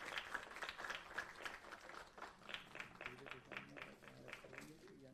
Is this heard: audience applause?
yes